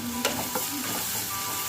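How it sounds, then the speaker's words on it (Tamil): Onion, green chillies and curry leaves sautéing in a pan, a steady close sizzle with a couple of light utensil taps, no talking. "இது கூட 2 பச்சை மிளகாய், அப்புறம் கொஞ்சம் கருவேப்பிலை சேர்த்துட்டு வெங்காயத்தை நல்லா வதக்கி விட்டுக்கலாம்."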